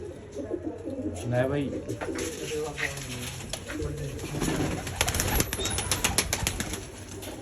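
Pigeons in a rooftop kabootar loft coo and rustle nearby, with occasional wing flaps, while someone talks over them throughout.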